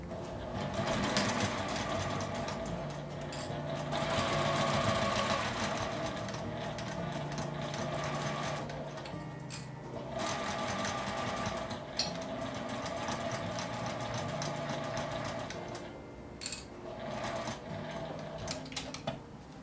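A home sewing machine stitches along the edge of a fabric pen case with a divider, a steady close mechanical whirring and rapid needle clatter running almost continuously with brief slowdowns.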